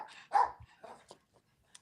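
A dog barking close by, one loud sharp bark followed by a few softer yips and whimpers with short pauses between them.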